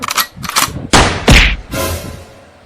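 A rapid series of loud, sharp gunshots, several bursts close together with a brief ringing tail, no talking.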